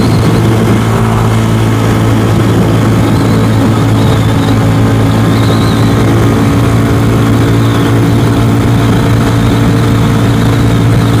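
Venom X22R motorcycle engine held at high revs in third gear, a loud, steady droning whine that runs unbroken throughout with no talk.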